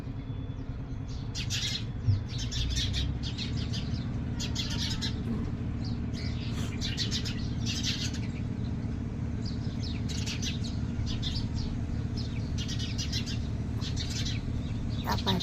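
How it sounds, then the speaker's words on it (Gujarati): Sparrows chirp in repeated rapid bursts over a steady low hum, a busy flock close by for the whole stretch. "આ કુદરતી અવાજ સાંભળો. ચીં ચીં ચીં ચીં કેટલો મસ્ત અવાજ લાગે."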